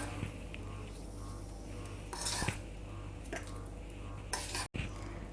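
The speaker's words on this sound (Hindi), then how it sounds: "तड़के को हम चम्मच की सहायता से ढोकले के ऊपर स्प्रेड करेंगे।" A spoon scrapes and clinks against a metal dish in short strokes, spreading tempering over semolina dhokla, over a steady low kitchen hum, with a brief pause near the end.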